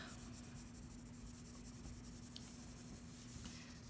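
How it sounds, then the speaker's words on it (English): Colored pencil scribbles continuously on paper, a soft, steady scratching rub with quick back-and-forth strokes, close and quiet. "now I'm just scribbling"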